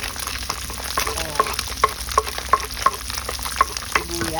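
Onions sizzle in a frying pan for ginisang bitsuelas, a steady frying hiss punctuated by a regular series of sharp metallic taps from a utensil against the pan.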